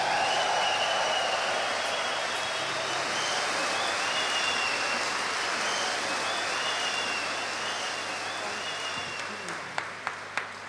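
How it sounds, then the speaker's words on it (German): Loud, dense audience applause at a 2006 birthday party show, sustained for several seconds as a steady broadband wash, thinning toward the end into a few distinct individual claps. "Einen herzlichen Applaus für den rheinischen Kochkönig schlechthin aus seinem Restaurant in Butzheim aus der Oldithek."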